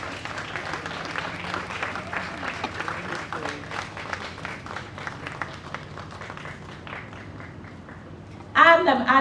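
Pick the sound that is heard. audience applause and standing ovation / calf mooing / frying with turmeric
audience applause and standing ovation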